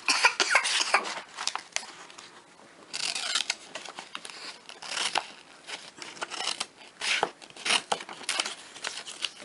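Scissors cut through a paper workbook page in a home kindergarten lesson, making a series of crisp, irregular snips and paper rustles, close and fairly loud.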